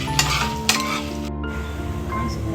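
Byadgi chillies and coriander seeds roasting in a little oil in a pan for a Goan fish curry, a steady close sizzle with two sharp clinks of a spoon against the pan and a soft scrape near the middle.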